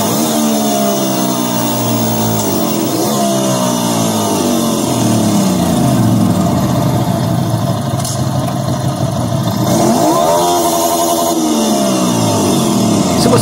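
Emula One electric motorcycle riding with mechanical whine and vibration, a loud continuous drone whose pitch sweeps up and down with acceleration and deceleration, plus some wind rush, no talk over it.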